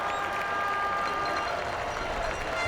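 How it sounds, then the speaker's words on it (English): Crowd cheering at a Phillip Island MotoGP 19 race in the video game, a steady broad roar of noise held throughout at an even level with no pauses. "The crowd is going wild"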